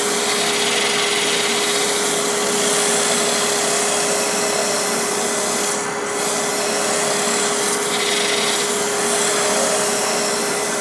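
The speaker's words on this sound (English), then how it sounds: "I'm not doing any heavy sanding. The fact that it always spins makes it sand extremely efficiently" A Hope Woodturning Pro Sander works on spinning wood on a lathe, giving a loud continuous whirring rush with a steady hum underneath and a brief dip near the middle, with no speech.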